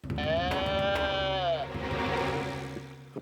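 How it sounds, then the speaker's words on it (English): A cartoon sheep bleats in one long wavering cry, loud and clear, followed by a quieter lower bleat as the sound fades. "A sheep says bah, bah."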